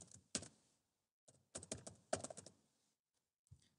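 Short bursts of keystrokes clatter on a computer keyboard as text is typed into a spreadsheet cell, with brief pauses between clusters and a few soft, close taps.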